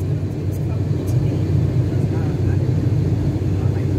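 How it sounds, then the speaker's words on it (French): A propeller plane's engine drones steadily with a low, throbbing hum, continuous and fairly close throughout. "c'est un avion à hélice."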